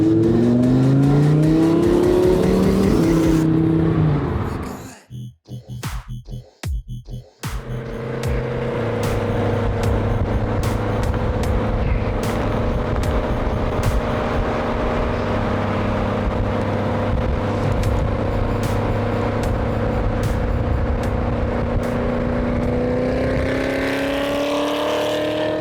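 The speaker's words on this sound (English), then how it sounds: "The sound of V8, there's nothing like it." Ford GT V8 engine roaring loudly and close, with a brief break of sharp clatter before a long, steady high-revving drone settles in and holds for the rest.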